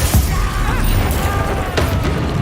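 Fire spell Incendio cast in the video game Hogwarts Legacy, a short burst and whoosh buried in a dense, constant wash of game effects and background noise.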